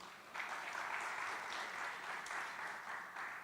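Guests at a football tournament media launch in St. Lucia applaud the government of St. Lucia as a stakeholder partner, soft, distant-sounding clapping that swells in after a brief pause and carries on steadily.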